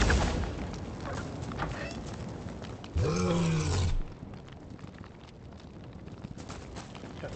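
An animal cry from a horse in the video game Hytale, one loud call lasting about a second and standing out above a steady background of game ambience and faint clopping.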